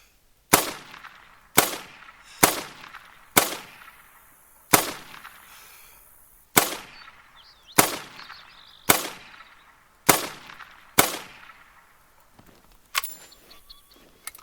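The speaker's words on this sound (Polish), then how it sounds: "oddałem te kilkanaście strzałów" A series of about ten sharp gunshots from the hunting video game theHunter: Call of the Wild, fired during a turkey hunt, fairly evenly spaced, each followed by a short decaying echo, with no talking.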